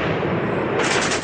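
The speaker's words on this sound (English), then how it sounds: "as dawn breaks, the assault begins with a hail of gunfire" A dense, rapid burst of gunfire from a dawn assault by Taliban fighters crackles loudly, merging into a continuous roar with no pauses between shots.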